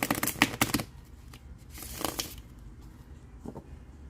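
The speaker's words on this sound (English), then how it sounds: "Three shuffles." A tarot deck is shuffled in three separate bursts: a loud riffle at the start, a quieter one in the middle and a short faint one at the end, all close up with no voices.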